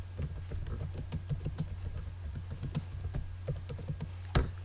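Rapid, uneven keystrokes on a computer keyboard enter AutoCAD commands, close and steady, ending with a harder key press and no talking.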